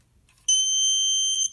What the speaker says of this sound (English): then the alarm sounds and the color LED lights up